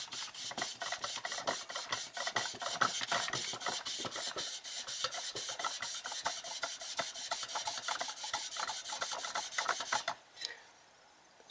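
A rag soaked in WD-40 rubs along a bicycle spoke in quick, repeated rasping strokes, steady and close for about ten seconds before it suddenly stops.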